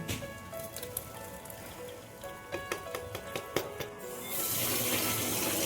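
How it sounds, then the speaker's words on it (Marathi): Water pours and splashes steadily as it is strained from cooked rice, with a few sharp clinks of a pot, then a louder continuous rush of draining water near the end. "आता यामधलं ना पाणी आपण गाळून घेतो"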